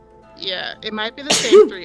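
A single close, loud sneeze bursts out just after a few words of casual conversation.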